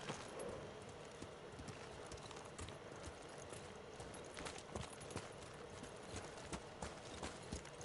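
Steady clip-clop of horse hooves at a brisk, rhythmic gait in the video game Ghost of Tsushima, continuous and fairly close over a wash of outdoor ambience.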